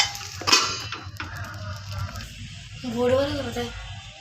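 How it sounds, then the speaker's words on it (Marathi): A lid is set onto a pan of sabudana khichdi in a home kitchen, giving one short metallic clatter near the start, followed by a low background hum and a voice speaking. "दोनच मिनटं झाकण ठेवूया."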